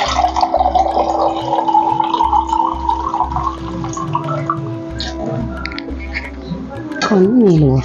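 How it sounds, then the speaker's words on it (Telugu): Water is poured onto a pot of beans curry made without onion or garlic, a trickling, splashing pour with dripping, alongside kitchen clatter. "పైన కొన్ని నీళ్ళు పోసుకోవాలి."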